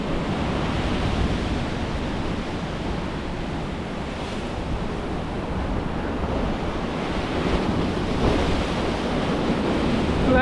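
Ocean waves wash steadily against a rocky coastal ledge on the South Coast, a continuous broad roar of surf and spray with wind buffeting the microphone throughout, no voices present.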